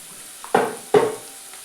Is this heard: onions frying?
yes